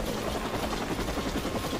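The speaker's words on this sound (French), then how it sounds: "Il faut que j'arrive à détruire l'hélicoptère" A helicopter in the video game Watch Dogs gives off a loud, continuous rotor drone with a fast, pulsing beat that holds steady and close throughout.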